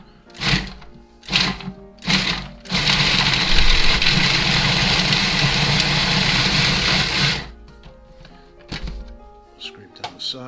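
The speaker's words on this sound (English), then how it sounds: "I'm going to put them in a food processor." A food processor blends sambal ingredients in one loud, close, continuous whir of about five seconds, after a few short pulses and before a handful of clunks and knocks once it stops.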